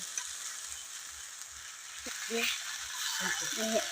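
Ginger frying in a kadai while a spoon stirs it, a steady broad sizzle with soft scraping taps and a few clanks under a woman's nearby speech.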